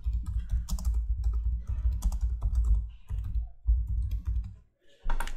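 Rapid clicking of computer keyboard keys as text is typed, steady and close with brief pauses between bursts.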